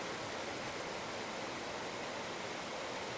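Sulfur spring water pouring into a river in Manito, Albay, a steady broadband rush of falling water, loud and close, constant throughout with no voices.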